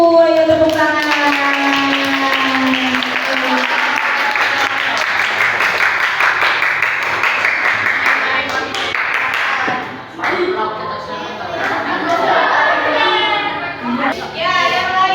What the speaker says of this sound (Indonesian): Tepuk tangan dulu buat kelompok 1. Ayo tepuk tangan.